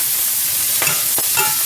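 Brussels sprouts browning in salty bacon fat in a pan give a steady close sizzle, with a few quick scrapes and clicks of stirring breaking through.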